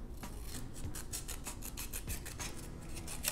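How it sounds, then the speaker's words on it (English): Scissors cut paper strips for a homemade maraca craft with a rapid series of crisp snipping and rasping strokes, close and steady, with no talking. "So I'm just going to cut out some paper strips here to glue onto my"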